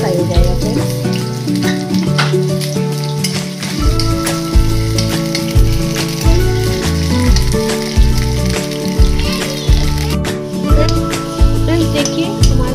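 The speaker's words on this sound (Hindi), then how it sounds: "कच्चे आलू डाल रहे हैं, इसलिए हम आलू को पहले हम फ्राई कर लेंगे" Raw potatoes fry in a hot pan for a vegetable Maggi dish, giving a loud, steady sizzle with occasional clatter of stirring, while a voice talks intermittently over it.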